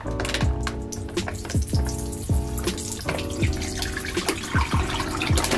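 Water pours and splashes out of a bag holding frogs in a steady stream, with gurgling glugs repeating at an even rhythm, close and fairly loud.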